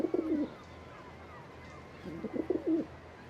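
A pigeon coos twice in soft, low rolling phrases, one near the start and one later, against a quiet background hum with no talking.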